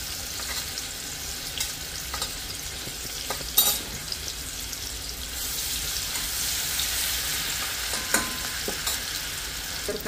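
Ground garlic, ginger and green chili paste sizzles in a hot pan with cumin for a brinjal bhaji, a steady frying hiss with occasional scraping stirs and clatters, close and fairly loud.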